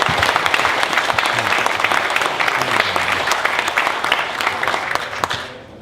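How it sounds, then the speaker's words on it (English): A big, loud round of applause fills an awards ceremony hall, steady, dense clapping from a large audience that holds for several seconds and then tapers off at the end. "Let's give them a round of applause."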